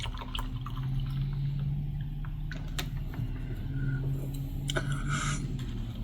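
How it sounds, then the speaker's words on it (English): Water is poured into an MRE drink pouch holding a red sports-drink-style powder, with close, steady trickling and splashing liquid and small drips over a low background hum. "Let's get our water in here."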